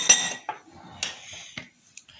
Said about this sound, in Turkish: Şimdi şöyle güzelce bunu karıştırıyorum.